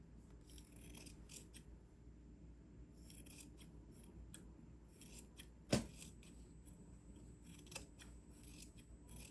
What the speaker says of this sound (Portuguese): eu venho com a tesoura e recorto o excesso